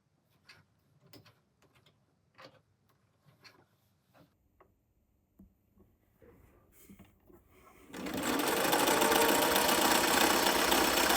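Sewing a fabric loop for a balcony sun shade: several seconds of faint handling clicks and taps, then a sewing machine starts and runs loud and steady, close by, until the end.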